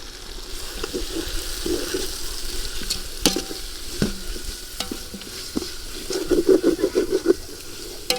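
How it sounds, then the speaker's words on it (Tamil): Tomatoes with salt and turmeric sauté in a pan for mutton biryani, giving a soft continuous sizzle with a few sharp scrapes and clinks of the stirring utensil, close up, with no talking. "உப்பு மஞ்சள்தூள் போட்டிங்கன்னா இது சீக்கிரம் வதங்கும்"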